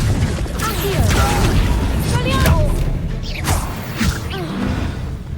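A fire spell cast in Hogwarts Legacy, a Harry Potter video game, comes as a loud burst of whooshing and booming impacts with creaks and thuds. It is layered over game music and excited voices throughout.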